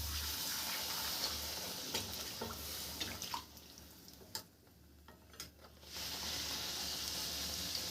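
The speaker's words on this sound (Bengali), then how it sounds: "দু পিঠ ভালো করে ভেজে নেবেন" Fuchka puris frying in hot oil in a deep wok, a soft, steady sizzle with scattered small pops and bubbling, fairly quiet and close, dipping briefly before swelling again.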